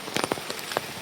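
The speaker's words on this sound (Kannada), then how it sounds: "ಮಳೆ ಈಗ ಸ್ಟಾರ್ಟ್ ಆಗಿದೆ" Rain starting to fall outdoors, with scattered raindrops striking a surface in a few distinct taps over a faint steady patter, fairly close and quiet.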